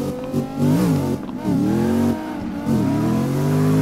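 Corvette Z07 with a swapped engine in the CarX Drift Racing 2 game, revving hard in repeated rising and falling surges, loud and close, with tire noise between throttle blips. No voices.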